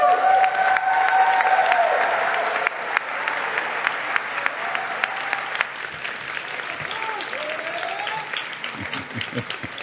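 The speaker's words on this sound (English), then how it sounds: "please applaud and show the appreciation that he and that program" Commencement audience applauding steadily for a program honoree at Antioch University Los Angeles, dense sustained clapping filling the hall, a faint voice briefly over it, easing slightly after a few seconds.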